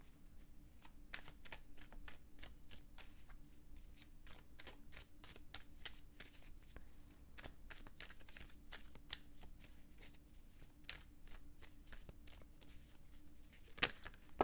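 Tarot cards are shuffled and pulled close up, with a steady run of soft riffling slaps and flicks, quiet and intimate, ending with a sharper snap.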